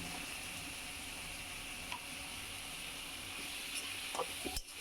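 Ginger and garlic frying with prawns and onion in a pan make a soft, continuous sizzle and hiss, with a brief utensil clatter near the end, and no voices.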